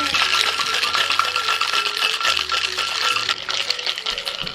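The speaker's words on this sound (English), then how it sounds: "You're gonna pop the top on that shaker and give it a shake." A cocktail shaker holding lime juice and ice, shaken for several seconds in a steady, dense rattle and clatter, close and loud with no talking.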